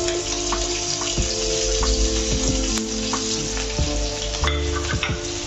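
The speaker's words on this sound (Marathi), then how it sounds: "ही बारीक चिरलेली हिरवी मिरची पण यामध्ये टाकायची आहे" Finely chopped green chillies frying in hot oil, a loud dense crackling sizzle that runs throughout with occasional clicks and scrapes of a spoon, no voices.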